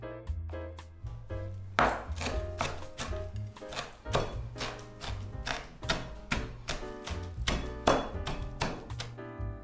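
A knife chops 400 grams of blanched, cold-rinsed green vegetables on a board in a steady run of crisp, close strikes through most of the stretch, with soft background music underneath.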